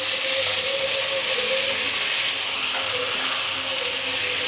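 Cut quail pieces fry in a tomato masala for quail gravy, producing a constant soft sizzle and hiss with no break.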